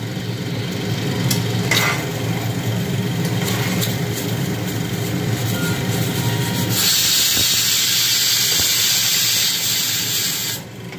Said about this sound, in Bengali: আমার কুকার কিন্তু জিজলিং করছে, খালি শোষো আওয়াজ করছে